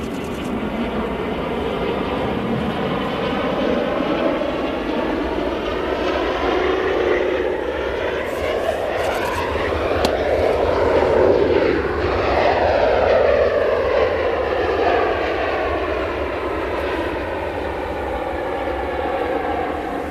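A Boeing 737 jet arriving from Cologne passes with a loud, sustained engine roar whose whining tones sweep down as it goes by, a long close flyover with no talk.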